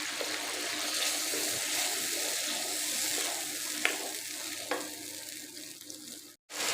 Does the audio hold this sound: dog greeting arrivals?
no